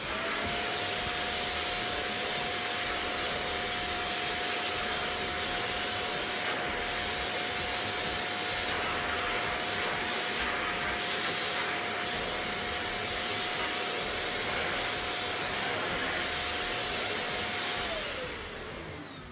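Shark NV801UKT upright vacuum cleaner running with the upholstery tool fitted, a steady loud whooshing motor and suction roar that holds constant for about eighteen seconds before winding down at the end.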